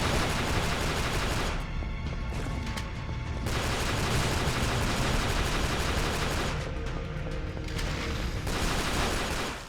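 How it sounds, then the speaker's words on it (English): Dense, continuous gunfire roars in The 3rd Birthday video game, loud and sustained with two brief dips, the shotgun blasts buried in a wall of game combat noise. "Man, the shotgun sucks."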